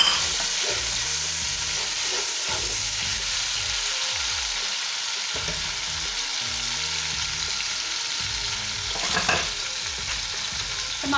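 Tomatoes frying in oil inside a pot give a loud, continuous sizzle and crackle, with faint irregular stirring bumps underneath and no talking throughout.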